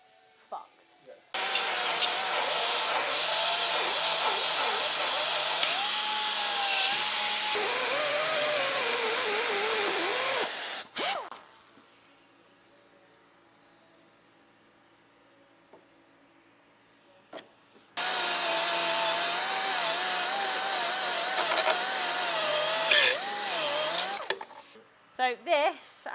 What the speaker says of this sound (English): So I've cut along the top, along the bottom, and then I'm gonna smooth this down